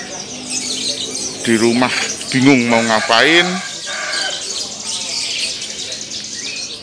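Caged birds chirp and tweet in high, scattered calls at the Sasana Kukila bird market in Magelang, a steady background under someone talking close by.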